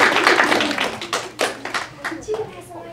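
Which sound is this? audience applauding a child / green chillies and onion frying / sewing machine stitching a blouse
audience applauding a child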